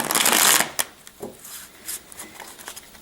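Tarot cards shuffled by hand, a loud riffling burst at the start followed by a few softer, scattered card slaps and shuffles at close range.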